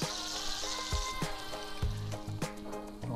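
A grilled cheese sandwich with smoked Havarti, spinach and crispy prosciutto frying in butter in a pan, giving a close, steady sizzle with small popping crackles.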